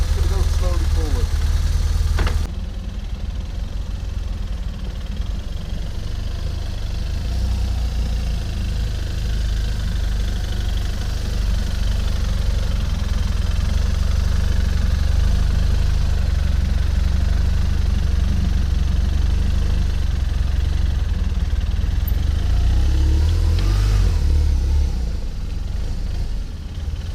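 Motorcycle engine at low speed while the bike creeps slowly forward using the clutch friction zone, a loud, steady close rumble that runs throughout with little change, a brief knock near the start.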